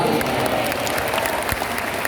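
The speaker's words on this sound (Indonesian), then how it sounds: "Tepuk tangan." An audience at a religious sermon in Semarang applauds, a dense and steady patter of many hands clapping at once in a short burst.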